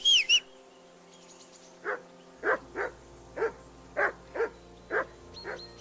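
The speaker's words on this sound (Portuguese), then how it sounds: "Jesus, Henry, that barking's driving me nuts. Can you get your dog to shut its beak?" Dog in Kingdom Come Deliverance II barking in a regular series of about eight sharp woofs at close range, alone apart from a low steady ambience and a brief tone at the start.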